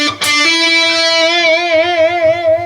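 Overdriven electric guitar playing a solo lick: a picked note, a hammer-on to a higher note, then a long sustained tone with wide vibrato, loud and alone.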